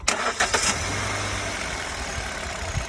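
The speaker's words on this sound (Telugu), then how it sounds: "సో ఒకసారి వెహికల్ స్టార్ట్ చేయి బాబు." A Hyundai Xcent petrol car with 65,000 km driven cranks briefly and starts, then settles into a steady, fairly loud idle close by.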